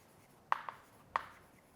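Chalk or marker strokes on a classroom board during a geography lesson, three short faint scratches, two close together then one more after a brief gap, with no talking.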